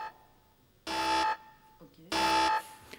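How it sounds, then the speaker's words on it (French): An alarm in the Secret Story reality-show house sounds two loud, harsh buzzer blasts, each lasting about half a second, separated by a brief pause. "lorsque cette alarme retentira,"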